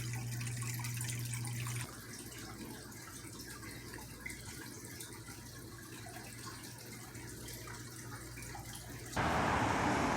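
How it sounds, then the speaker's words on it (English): Clean water runs steadily outdoors near a construction area, a continuous broadband rush that swells louder at the very end. "Clean water, just the way I like it."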